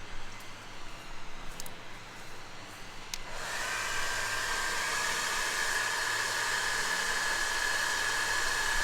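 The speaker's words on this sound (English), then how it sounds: "let's use a hairdryer" A hairdryer switches on after a quiet moment and blows a steady, loud airflow to keep a ball levitating, holding one constant rushing whoosh until the end.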